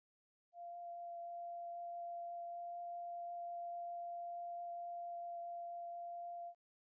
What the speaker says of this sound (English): Here's the second harmonic, otherwise known as the first overtone.